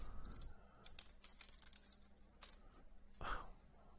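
Typing on a computer keyboard while entering commands in Unreal Engine: quiet, close key clicks in short irregular bursts, with one louder clack near the end, no voices.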